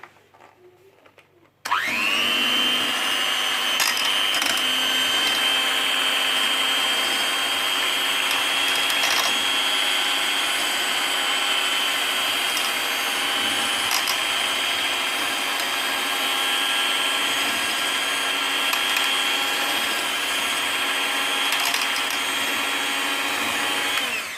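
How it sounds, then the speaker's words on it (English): Cream being whisked for an organic simple base cream: a loud, steady motor whirr starts abruptly after a short quiet moment and holds an unbroken, even drone to the end, with no talk. "I just have to whisk it a little more."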